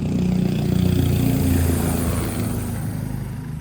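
A helicopter passing over the Kedarnath pilgrim camp, a loud, steady rotor and engine drone with a throbbing low pulse that swells and then slowly fades.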